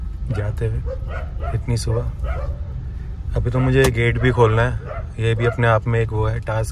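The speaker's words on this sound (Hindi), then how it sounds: "ये अभी तो सामने कुत्ते साहब भौंक रहे हैं।" Dogs in a street in Rishikesh bark and yip in repeated bursts near a Kia Carens, some whimpering among them, heard under steady talk and a low vehicle hum throughout.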